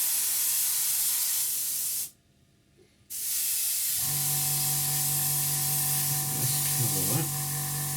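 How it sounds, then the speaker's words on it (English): A spray gun puts paint onto a scale model, a loud steady hiss that stops briefly for a second and then resumes with a tonal whine. Faint talk is heard underneath. "then we're just going to spray the second in"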